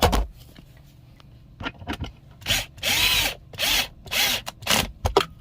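A power drill drives into a plastic floor cup holder inside a 2019 Freightliner Cascadia truck, whirring in several short, loud bursts separated by brief pauses.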